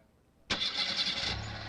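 A Volkswagen car engine cranks and starts in the video game Gabriel Knight 2: The Beast Within, an abrupt burst of noise after a short quiet that settles into a steady idle.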